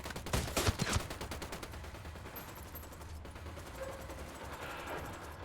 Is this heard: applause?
no